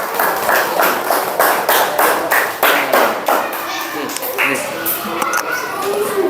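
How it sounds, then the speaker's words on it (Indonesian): A class of students claps for a group that has just finished presenting at a school session, with irregular, fairly close hand claps over the first few seconds that thin out as voices and movement take over. "beri tepuk tangan yang meriah untuk kelompok"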